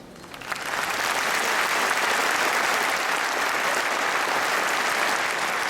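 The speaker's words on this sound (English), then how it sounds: "let's give a round of applause to our past presidents" An audience at a Lions international convention opening ceremony bursts into applause for its past presidents, the clapping building within a second into a loud, sustained wash of hands that holds evenly to the end.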